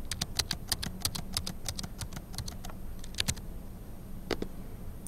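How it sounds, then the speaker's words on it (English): Data being typed on a computer keyboard into a spreadsheet, quick irregular key clicks in short bursts with brief pauses, close and quiet. "Now I'll go ahead and type in the data set."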